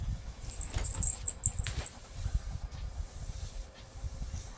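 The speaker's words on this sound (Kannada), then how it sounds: "ಸೊ ಇದು ಚೆನ್ನಾಗಿ ಫ್ರೈ ಆಗ್ತೈತೆ." Sliced onions for chicken biryani fry in a home-kitchen pan, giving a soft, steady sizzle and hiss with faint irregular crackles, heard close and alone.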